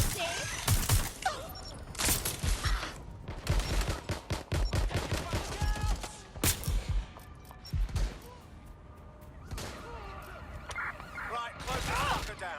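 Rapid bursts of gunfire in the video game Watch Dogs: Legion, with loud volleys and sharp single shots cracking over roughly twelve seconds, mixed with voices calling out.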